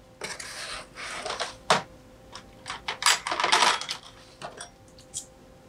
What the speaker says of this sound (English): then we'll start removing our bottom case screws